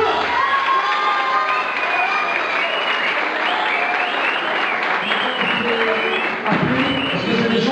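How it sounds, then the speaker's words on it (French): Crowd at a cage fight event applauding and cheering steadily, with shouts and voices mixed into a loud, continuous roar that holds for the whole stretch. "j'ai chauffé les mains et applaudir comme il se doit"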